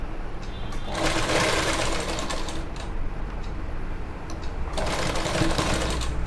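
A sewing machine stitches a pant in two fast bursts separated by a short pause, a steady mechanical whir close to the listener.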